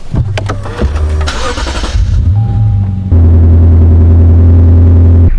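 A Lexus RC F cranks with a few clicks and whirs, then fires into a loud, deep idle rumble that settles and holds steady close by.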